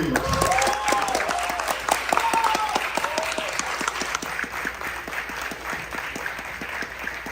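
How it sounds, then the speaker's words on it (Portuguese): An audience at a film screening and talk applauds filmmaker Cacá Diegues, steady clapping from many hands filling the room, with a voice briefly over it at the start. "eu queria pedir uma salva de palmas para o nosso grande mestre, Cacá Diegues"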